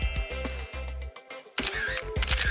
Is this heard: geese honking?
no